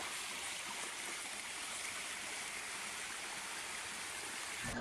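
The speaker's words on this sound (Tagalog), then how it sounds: "ito na nga at napuntahan na nga namin itong pinakaunang falls na aming narating" Steady roar of a waterfall and flowing stream in a forest, broadband rushing water filling the whole clip at a constant, close level with no voices.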